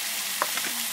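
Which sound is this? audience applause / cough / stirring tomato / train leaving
stirring tomato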